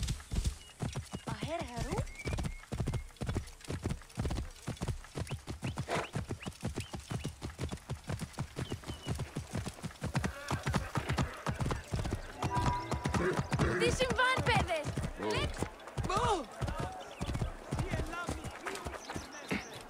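A horse trots with steady, loud clip-clop hoofbeats and whinnies in Assassin's Creed Origins, with the game's characters talking over the hooves throughout.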